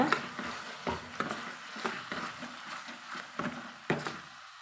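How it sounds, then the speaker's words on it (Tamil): Ground masala paste stirred and sautéed in oil in a pan for Tamil kara kuzhambu, with a steady soft sizzle and repeated scraping strokes of a spoon, close up and without talk. "நீ வந்து நம்ம இது கூட கலந்துக்கலாங்க கலந்து வதக்கி விட்டுக்கலாங்க"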